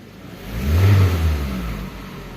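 A noisy Toyota Camry engine at idle, a close low rumbling drone that swells in the middle and then eases back to a steady hum.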